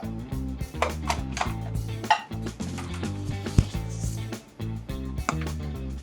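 A wooden spoon pushes soft Greek lemon potatoes out of an Instant Pot pressure cooker pot, giving close, intermittent knocks and clatters against the metal.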